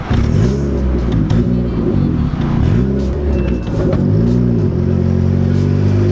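The engine of a boosted EG Honda Civic, flooding with too much fuel, idles roughly and loudly up close, its revs sagging and recovering in repeated uneven dips as it nearly stalls.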